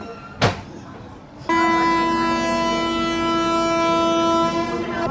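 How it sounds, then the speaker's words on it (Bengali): A Chennai–Howrah 1st AC coupe express pulls out of Chennai Central station: a brief sharp burst, then a loud, sustained horn tone holds steady for several seconds close by. "ট্রেন ছেড়ে দিল চেন্নাই সেন্ট্রাল রেলওয়ে স্টেশন থেকে।"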